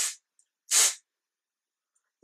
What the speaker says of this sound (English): I saw Tati, if you spray it on your hand, if it goes clear, it's going to be good